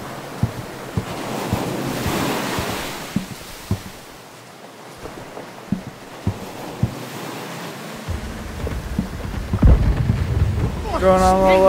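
A stormy sea in the pirate ship game Blackwake: surging waves and gusting wind roar steadily, broken by scattered sharp knocks and thumps, and a voice comes in near the end.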